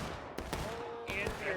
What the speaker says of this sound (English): Giant cannon fire.